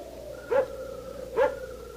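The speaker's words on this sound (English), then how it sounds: "That barking dog." Two distinct dog barks in a radio drama, spaced a little under a second apart, moderately distant against a quiet background hum, with no voices over them.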